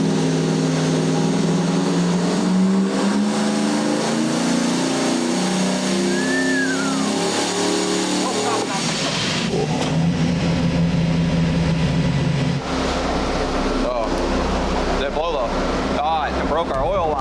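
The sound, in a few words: turbo 460 big block Ford engine revving on a dyno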